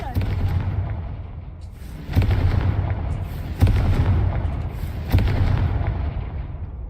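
Confringo fire-spell blasts in Hogwarts Legacy: three heavy booming explosions land about a second and a half apart, each with a deep rumbling tail over steady background game noise.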